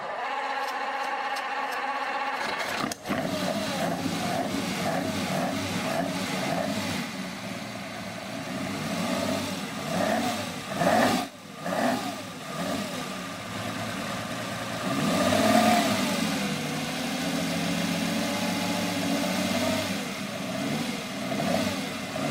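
A 3.5-litre Lamborghini V12 with double overhead camshafts starts up and revs repeatedly, the engine note climbing and falling in several sweeping blips over a steady idle, moderately loud and close.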